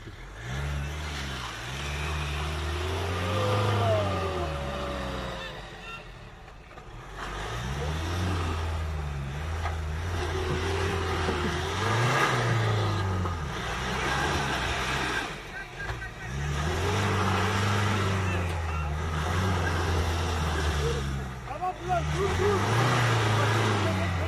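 An off-road car engine revs repeatedly in rising and falling surges while stuck in mud, close and rough, with voices talking over it.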